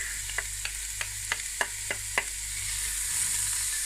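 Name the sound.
onions sauteing in olive oil in a pot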